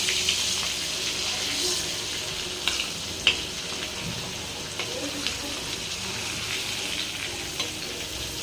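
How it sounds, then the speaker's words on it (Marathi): Bangda mackerel fish crisp-frying in a pan, turned to brown both sides, giving a continuous close sizzle with scattered pops and light clinks. "आपली मच्छी फ्राय करून घेऊ आणि याला मस्त दोन्ही बाजूनी खरपूस तळून घेऊ."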